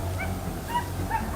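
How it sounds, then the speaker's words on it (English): Hunting dogs during a wild boar hunt give short whimpering yelps and yips in a rough outdoor setting, a few brief calls spaced across the moment over steady low rumble. "The sharp barking of the hunting dogs and the shouting of our teammates"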